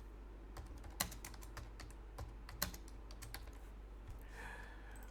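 Keys clatter on a computer keyboard in quiet, irregular bursts, with a couple of sharper, louder strikes among them.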